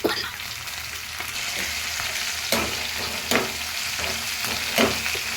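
Fenugreek seeds frying in a pan with onions for a chicken gongura curry make a continuous near sizzle, with a few sharp scraping stir strokes scattered through it.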